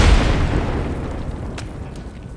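A grenade detonates in the shooter game Escape From Tarkov, a heavy boom at the very start that rolls off into a fading rumble and tail.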